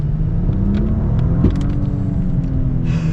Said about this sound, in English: and we're gonna get our full-blown acceleration.